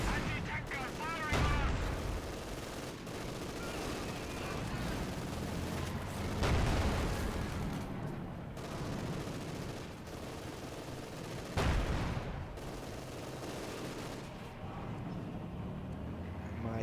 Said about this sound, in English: The machine guns are firing.